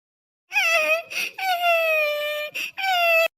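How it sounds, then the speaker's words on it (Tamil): A baby cries loudly in three long, strained wails separated by short gasping breaths, very close and alone. "அண்ணி குழந்தை கத்துற சத்தம் கேக்குதுல்ல"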